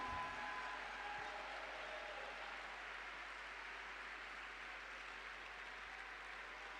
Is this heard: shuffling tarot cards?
no